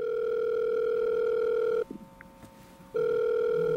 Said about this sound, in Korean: 전화 연결하겠습니다